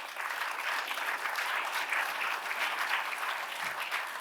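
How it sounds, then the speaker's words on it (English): A theater audience at The Neptune applauds steadily, dense and sustained clapping filling the room at an even level without letup. "I worry that not everyone is clapping because some people are disappointed in what he did."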